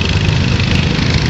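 Tractor engine running at a steam era show, a steady, loud, close rumble with no breaks over a brief stretch.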